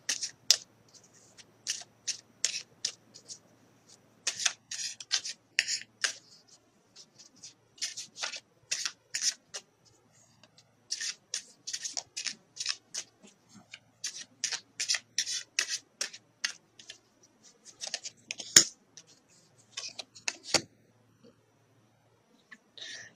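Tarot cards being handled and drawn: soft, close papery shuffles, slides and flicks in short irregular clusters, separated by brief silences, quiet and crisp.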